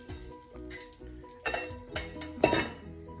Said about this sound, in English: And immediately we're gonna start stirring